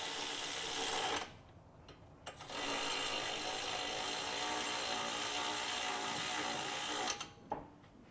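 A light duty electric impact wrench snugs brake bolts during a pad and rotor job, its whirring mechanical buzz running in two long bursts with a short pause between, moderately loud and close.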